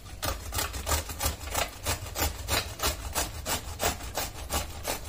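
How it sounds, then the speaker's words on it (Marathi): A peeled raw mango is rubbed against a hand grater in a steady back-and-forth rhythm, each stroke a close, coarse rasping scrape repeating about every third of a second. "तर आता किसणी घ्यायची आहे आणि आंबा आपल्याला किसून घ्यायचे आहे."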